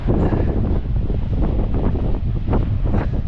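Strong coastal wind roars and buffets the microphone steadily, with surf rumbling faintly underneath, on a beach near Coffin Bay.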